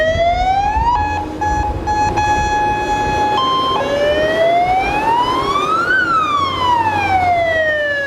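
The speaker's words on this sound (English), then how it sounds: "The flashing lights and blaring sirens as these large red trucks speed through the streets" A loud fire truck siren blares up close in Belize, rising and falling in long wails with a steady hi-lo pattern in the middle, over rumbling traffic.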